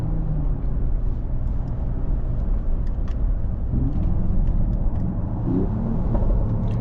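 A 2026 Mercedes-AMG GLE 53 hybrid drives over a road with some rough patches, giving a steady, dense low rumble of road and engine noise heard from inside the cabin, with no voices.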